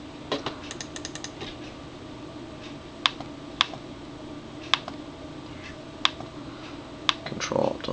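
Keys on a computer keyboard are pressed during a remote desktop session: a handful of sharp, isolated clicks spaced about a second apart over a low, steady background hum, close and moderately quiet, with no speech.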